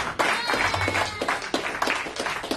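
Congregation clapping in acclamation during a church worship service, a steady run of sharp hand claps with a few louder accents, with a voice faintly under the clapping.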